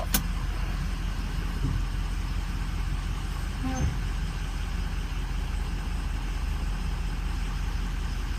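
A car engine with a rough-running fault idles steadily nearby, giving a low continuous hum with a couple of faint clicks and knocks and no one talking.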